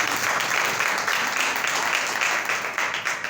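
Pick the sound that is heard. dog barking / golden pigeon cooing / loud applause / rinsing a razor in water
loud applause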